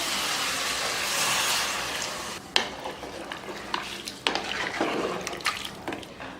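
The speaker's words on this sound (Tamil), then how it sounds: "அதுக்காக இப்போ தண்ணி சேர்த்துக்கலாம்." Water is poured into a pot of goat curry, a steady rush followed by splashing and stirring clinks, close and fairly loud.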